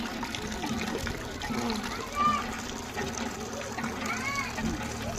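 Tap water runs steadily as hands are washed during a hygiene-habit lesson, a continuous splashing wash close by with adults and children talking over it throughout.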